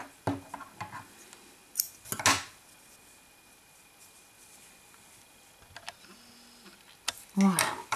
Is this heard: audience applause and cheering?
no